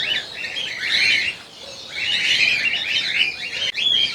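Many cockatiels, lutino and cream, chirp and call in a large breeding setup, a dense, continuous chatter of bright tweets that swells and dips, close by with no talking.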